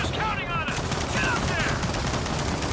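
Dense gunfire from a Gears of War 4 co-op firefight on Insane difficulty, a steady wash of shots with faint voices and chatter mixed underneath.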